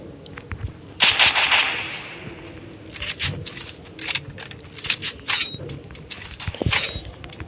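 Bursts of automatic gunfire from a shooting video game, a dense loud volley near the start followed by scattered shorter rattles and single shots over the rest, with no talk.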